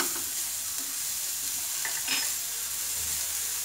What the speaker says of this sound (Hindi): गाजर, थोड़ा सा अच्छे से पकने देंगे इन्हें।